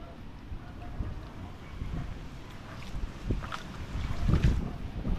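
Strong wind at sea roars steadily across an open microphone, with low rumbling gusts and water sloshing against a fishing boat, swelling louder toward the end.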